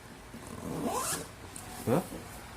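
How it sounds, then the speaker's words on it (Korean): A zipper on a Nomatic backpack is pulled open in two quick, close, scratchy strokes, the second louder and sharper, with no talking. "이 지퍼가 앞에 있어야 이렇게 열어 닫기가 편한데"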